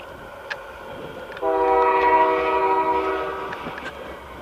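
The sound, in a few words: passing train with horn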